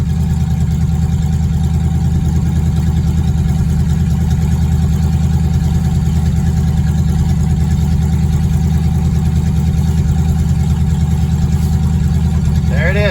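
A 1959 Edsel's engine runs steadily, smoky yet smooth, a loud, constant low rumble that continues unbroken throughout.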